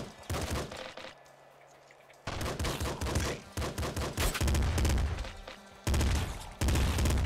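Nuclear Throne video game gunfire: rapid, dense bursts of assault rifle shots with explosive impacts. The shooting comes in chunks separated by short gaps, loud and close, under game music and effects.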